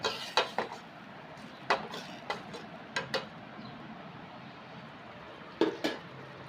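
Maggi noodles with oil are stirred in a metal pot, giving irregular sharp clinks and scrapes of a utensil against the pot, close by, with pauses between strokes.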